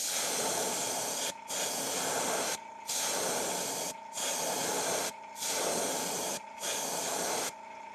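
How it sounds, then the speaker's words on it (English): A can of yellow spray paint hisses in six steady bursts of a second or so each, separated by short pauses, close and fairly loud while painting the belly of a figure. "I'm going to be just spraying along the belly"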